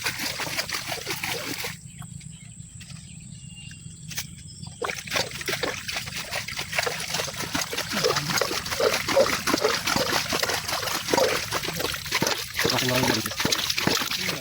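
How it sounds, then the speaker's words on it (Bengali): Water splashing and sloshing as stinging catfish stir in a shallow pond, intermittent close splatters and trickles, with people talking over it. "শিং মাছের যে একটা পানি নড়ানড়ি।"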